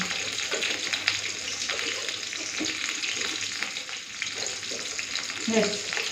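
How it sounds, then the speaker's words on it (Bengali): Bhola fish frying in hot oil in a home kitchen, a steady dense sizzle with crackling pops running throughout, close and continuous with no talk. "ওদিকে মাছ ভাজাটা বসিয়ে দিয়েছি"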